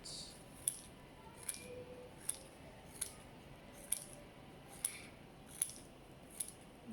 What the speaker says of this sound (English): I'm going to cut some pieces and cut some kind of triangle shapes like that.